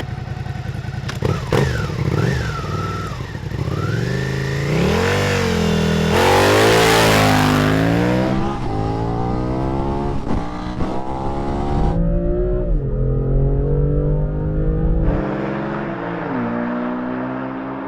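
A Suzuki SV650 motorcycle and a BMW M2 car accelerating side by side in a drag race, engines revving hard with rising, stepping gear-change pitches, loud and close, the bike's note climbing and dropping through shifts before fading.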